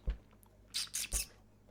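A person squeaks in imitation of a cat, giving a few short, high, breathy squeaks in quick succession, faint and close with no other voices.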